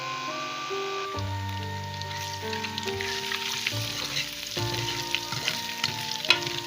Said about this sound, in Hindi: ये मैंने लहसुन अदरक का पेस्ट शामिल कर दिया, इसको फ्राई कर रही हूँ।